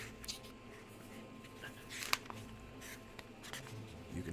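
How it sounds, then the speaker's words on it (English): Pages of an old sketchbook rustle and flip, a soft, continuous papery shuffle with a few crisper crackles, close and moderately quiet, with no voices heard. "You can hear the genuine paper."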